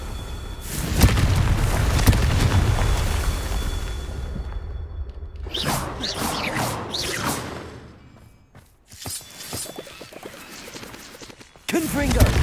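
Confringo fire spells burst in Hogwarts Legacy, heavy booming explosions with whooshing blasts in two loud bursts separated by a brief quieter gap, ending in another sudden hit.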